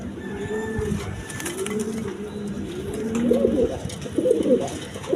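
Pigeons in a pair sold as a matched Golap breeding couple give soft, low cooing calls that swell and fall in several repeated phrases, close by and alone, growing a little louder toward the end.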